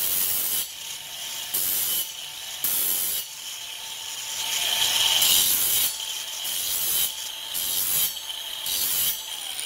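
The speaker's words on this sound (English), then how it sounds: "So just put a bevel on it with a file or a grinder or whatever." A metal file scraping a bevel onto the edge of a steel taping knife, heard as repeated rasping strokes in a steady back-and-forth rhythm, close and fairly loud, with short pauses between passes.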